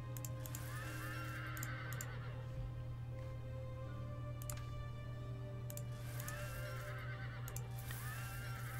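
Horses whinnying in Europa Universalis: Rome after cavalry troops are hired, several clear neighs early and again near the end over a constant low game hum, with no voices.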